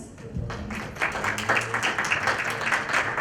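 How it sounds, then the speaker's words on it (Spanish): Audience applause at a technical panel on social impact and community development, a moderate steady patter of clapping from a mid-sized crowd, slightly distant, with no talk over it. "Damos un fuerte aplauso"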